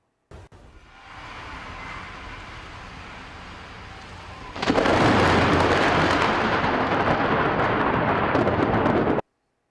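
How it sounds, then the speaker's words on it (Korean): Thunder rolling through a rainstorm: a quieter rumbling wash of rain for a few seconds, then a sudden loud, sustained crash of thunder that stays broad and roaring until it cuts off. "가끔 비가 내리게 되면 천둥이 치게 되죠."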